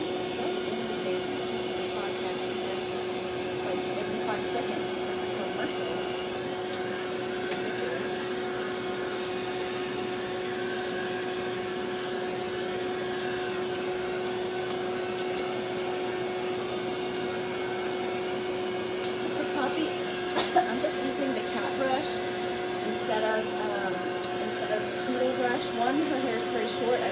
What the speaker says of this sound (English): It separates very easily with blow dry.